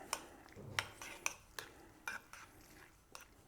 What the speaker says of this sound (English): We can stir this.